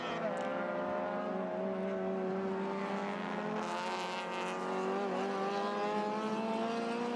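A race car screams around the circuit during a Malaysia Championship Series race, its high engine note holding steady with gear-change shifts and a brief surge, heard from a distance with no speech.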